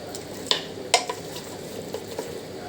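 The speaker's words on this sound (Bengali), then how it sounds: "তো আমি এখন ওই মাংসটা লাকড়ি দিয়ে ভালো করে মাখিয়ে নিচ্ছি।" Beef being worked and mixed by hand in a cooking pot, with a few sharp scraping clinks and soft stirring rustles over a faint sizzle, close and moderately loud.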